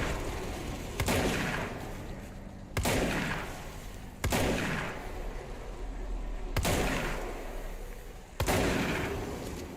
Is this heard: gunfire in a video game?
yes